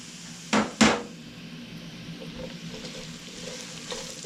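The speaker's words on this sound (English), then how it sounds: "I'm adding the beets" Chopped beets tipped into a hot pan with green chili, two quick thuds followed by a steady soft sizzle of frying that continues without talk.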